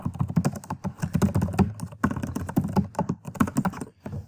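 Fingers type on a computer keyboard, a quick, uneven run of close, crisp key clicks with brief pauses between bursts and no voices.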